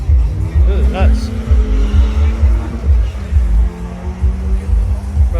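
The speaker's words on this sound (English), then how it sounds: "The guys across from me, they're all drifting." Cars drifting at Bimmerfest, a BMW enthusiast gathering, with engines droning steadily and rising tire squeal or engine whine near the start, heard amid crowd noise and nearby talking.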